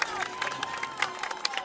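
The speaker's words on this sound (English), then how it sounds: "As everybody was cheering there, Tristan Murphy was leading the cheers" Crowd cheering at a Garrett County high school football game, a steady roar of many voices with scattered shouts and claps rising and falling throughout.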